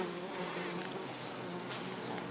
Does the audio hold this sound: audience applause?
no